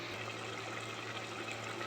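Two glasses of water poured into a pot of rice make a steady, close rushing and splashing sound with no talk over it.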